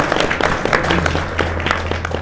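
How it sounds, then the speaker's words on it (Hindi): Audience applause at a community meeting of backward-class and scheduled-caste groups in Bhiwani, Haryana: steady, dense clapping from a gathered crowd, moderately loud and continuous. "भाई एक बार ताली बजाओ अपने बीच में"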